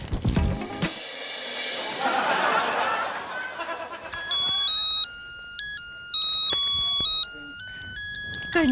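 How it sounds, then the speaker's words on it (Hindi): A phone ringtone trills in a repeating electronic pattern, loud and steady, after a few seconds of noisy talk and laughter in a Hindi comedy scene. "घंटी जा रही है।"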